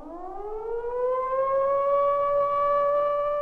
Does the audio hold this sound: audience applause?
no